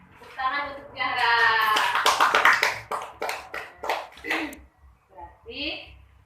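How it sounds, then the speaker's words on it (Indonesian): Primary school children in a fifth-grade classroom clap for a classmate, a short burst of overlapping handclaps following a teacher's speech, fairly close and then fading into scattered claps. "Tepuk tangan untuk Zahra."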